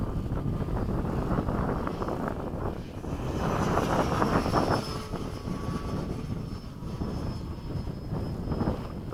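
An RC F/A-18 electric ducted fan jet, running a high-speed 6S setup, flies past at sunset with a whooshing, rushing roar that swells and fades, mixed with wind noise.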